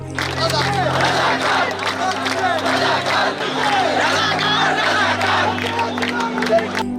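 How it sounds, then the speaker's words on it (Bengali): Quota-reform protesters and students at a night rally chant slogans together as a loud, continuous crowd, rhythmic massed voices and shouting filling the whole stretch with steady energy. "তুমি কে আমি কে রাজাকার রাজাকার স্লোগান দিতে শুরু করে"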